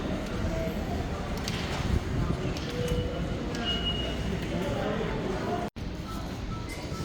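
An express train in Japan, heard from on board: a continuous rumbling roar of wheels and carriage with faint rattles and brief higher tones, and a short dropout near the end.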